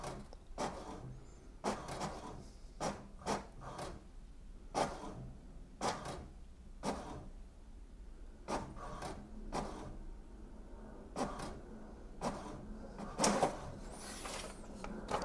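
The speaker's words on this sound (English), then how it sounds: "Here we go, the printer is printing something." An HP DeskJet 2742e inkjet printer runs a page, giving a steady series of short mechanical clacks and whirring carriage passes in an irregular rhythm, close and fairly loud with no talking.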